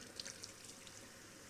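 Cold tap water runs steadily over a bunch of scallions being rinsed in a kitchen sink, a soft continuous splashing hiss with a few faint drips near the start.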